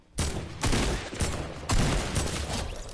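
AK rifle fire in a video game, with several loud bursts of rapid shots, each starting sharply and trailing off, close and dense with no talking.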